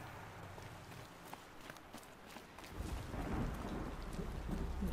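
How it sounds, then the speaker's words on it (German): Rain in the video game Horizon Zero Dawn falls steadily with a low rumble; the downpour grows heavier and louder partway through. "Jetzt regnet es hier rein"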